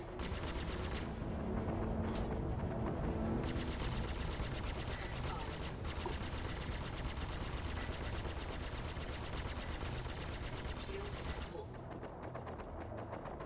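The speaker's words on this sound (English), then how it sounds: "someone is shooting at me behind" Rapid automatic gunfire from a Star Citizen space combat game rattles continuously for most of the stretch, loud and dense, with short pauses near the start and a quieter tail at the end.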